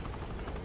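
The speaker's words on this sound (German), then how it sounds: "Hier ist noch ein Hubschrauber." A helicopter in the video game Saints Row The Third whirs with a dense, steady rotor drone, loud and brief, with no talk over it.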